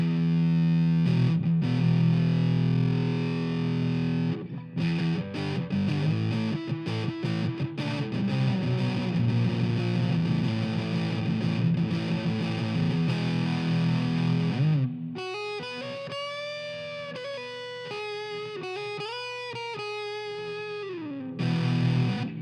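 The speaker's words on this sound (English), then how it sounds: "I'm just gonna do a quick fuzz test so you can hear what fuzz sounds like through the clean." Fuzzy, distorted electric guitar through a fuzz pedal into the clean channel of a Marshall AVT50H amp playing continuously, thick chords giving way to bending, wavering single-note lines near the end.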